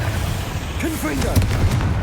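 A Confringo fire spell bursts in Hogwarts Legacy, a short booming blast that lands amid steady battle noise, with speech running alongside it.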